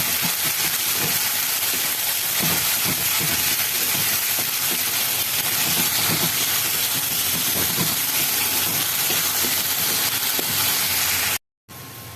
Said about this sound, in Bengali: এখানে কয়েকটা কাঁচা লঙ্কা, রসুন আর আদা আছে। এটাকে আমি এখানে একটু ভালো করে ফ্রাই করে নেব।